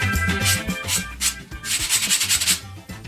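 CNC-cut wooden parts being lightly sanded by hand, with close, steady rubbing strokes in a quick back-and-forth rhythm and short pauses between passes.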